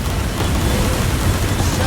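A fire spell bursts over enemies in a fantasy role-playing game, a loud, dense roaring blast of flame that fills the short moment without a break.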